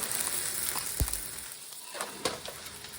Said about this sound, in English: So while the sausage continues to brown, it looks like the butter is all melted.